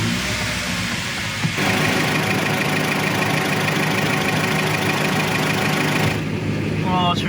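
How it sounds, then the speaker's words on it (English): After a thermostat replacement, a car engine cranks and catches, then settles into a steady, loud idle with a constant low drone and a brief chirp near the end, with someone talking over it. "All right, let's start her up again."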